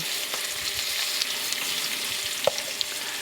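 Prawns frying in a pan with herbs, a steady close sizzle with a few brief clinks and crackles, no talking.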